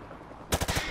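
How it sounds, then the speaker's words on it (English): A rifle fired from the hip in Call of Duty Modern Warfare, a sharp burst of three or four rapid, loud, close shots right after a short quiet lead-in. "He sprayed bullets all over the damn place."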